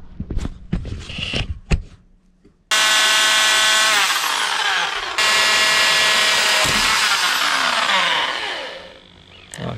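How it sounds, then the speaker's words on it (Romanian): A power drill boring holes during a steering-wheel and motor-mount build for an ATV, a few sharp knocks first, then a loud close whine that runs for several seconds, briefly drops and restarts, then winds down. "Să dau niște găuri și să bag niște șurube."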